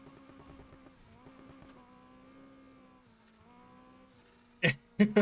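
Car engine in Need for Speed Heat humming at a steady, low level, its pitch rising and dipping with throttle, then a few sharp loud bursts near the end, with little or no talk.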